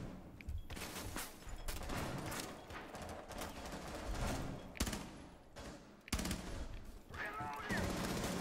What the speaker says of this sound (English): I'm gonna use this gun.